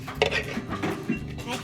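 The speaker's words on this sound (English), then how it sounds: "We're going to mash the yolk up." A utensil mashes egg yolk in a bowl for sugar cookie dough, giving close, irregular scraping and clinking strokes, with soft talk in the background.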